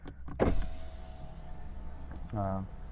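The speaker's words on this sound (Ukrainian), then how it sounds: "Вікна піднімаються, самі випускаються, піднімаються теж." Power windows on a BMW 328i F30 whir up and down inside the car, a faint motor hum with a brief louder surge near the end, preceded by a couple of clicks.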